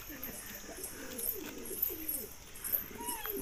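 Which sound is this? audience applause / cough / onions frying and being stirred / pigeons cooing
pigeons cooing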